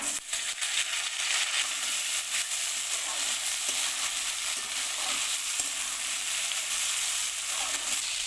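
Chickpeas fry in a pan with dried red chilli and chopped onion, producing a dense, continuous close sizzle with occasional stirring scrapes and no speech.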